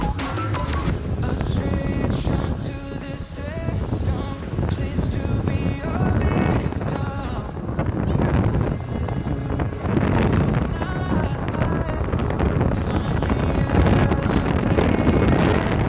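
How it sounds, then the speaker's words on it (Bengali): Strong wind blowing outdoors, a continuous rough roar and buffeting rumble that fills the whole quarter minute at steady loudness, with no voices. "বাতাসও অনেক হচ্ছে"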